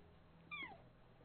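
A single short meow from a cat, rising then falling, sounds faintly and briefly over a quiet background during a medieval city-building game stream, with no talking during the call.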